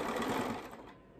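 A sewing machine stitches quilt binding toward a pin set a quarter inch from the quilt's edge, a steady close whir that runs alone for about a second before tapering off.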